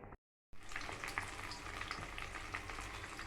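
Paneer pieces frying in oil in a kadai for chilli paneer: a steady, close, dense sizzle and crackle that starts after a brief silent gap and continues loudly to the end.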